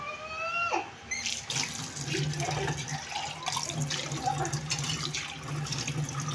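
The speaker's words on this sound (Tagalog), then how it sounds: "Ngayon tayo naman ay maghugas." Dishes being washed under a running kitchen tap, steady splashing water with clinks of plates and utensils, close and fairly loud, after a brief tonal squeal at the start.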